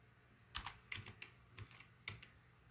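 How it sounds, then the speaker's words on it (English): Keys clack on a computer keyboard in a handful of quick, irregular bursts while a feature name is typed into Windows 10 settings, close and fairly quiet with no talk. "if you want to turn any features on, you just go and start typing in features."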